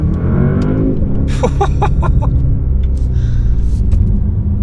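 A Porsche Panamera Turbo E-Hybrid accelerates hard, a loud continuous low engine roar with rising tone and a few sharp clicks, heard close from inside the car.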